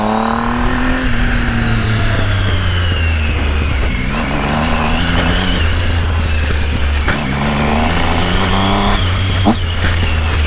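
A Triumph Tiger 800 motorcycle engine running loud and close, its pitch rising and falling through uneven revs with a rough, sputtering edge throughout.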